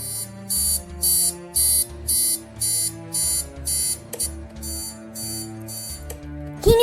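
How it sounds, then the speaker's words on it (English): A harsh electronic alarm clock blares in regular pulsed bursts, about ten evenly spaced shrill beeps in a steady rhythm, loud and close with a low tonal hum underneath and a sudden rising sound at the very end. "John woke up to the most annoying alarm sound in the history of clocks."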